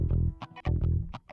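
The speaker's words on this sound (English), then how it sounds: "give it some fast compression with this 1176 thing" Heavily compressed music track from a remake, squeezed by fast 1176-style compression in Ableton, with loud, dense bursts of pitched sound that pump and pause in a choppy rhythm.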